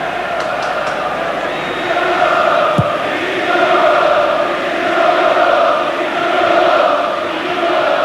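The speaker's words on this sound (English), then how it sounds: "there's a roar of expectancy from the United crowd" A Manchester United crowd at a 1990 match against Crystal Palace gives off a broad, swelling roar of expectancy, distant and sustained, rising and falling in waves beneath a commentator's voice.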